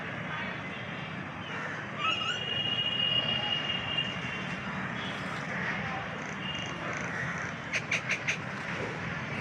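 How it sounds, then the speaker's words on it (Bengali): Common mynas call outdoors beside Rabindra Sarobar lake in Kolkata, a few chattering bursts and a short run of sharp repeated notes near the end, set against a steady wash of ambient noise. "এখানে বেশ কিছু শালিক পাখি"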